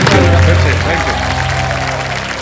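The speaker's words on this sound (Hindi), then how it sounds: "जोरदार तालियां बज जाए एक बार फिर से" A studio audience on the game show Kaun Banega Crorepati Junior breaks into dense, loud applause, fading slightly over a couple of seconds beneath a sustained musical tone.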